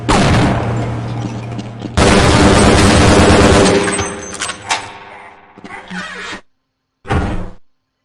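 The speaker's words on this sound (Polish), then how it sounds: "Karabin generalnie. No i on pod lewym przyciskiem myszy normalny strzał daje, a pod prawym przyciskiem myszy granat wysadza." Assault rifle firing in Half-Life: Blue Shift, with loud sustained bursts of automatic gunfire and a sharp rise at about two seconds, then a fade into shorter bursts and a brief silence before a final burst.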